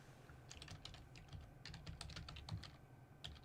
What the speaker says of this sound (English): I'll type it in chat.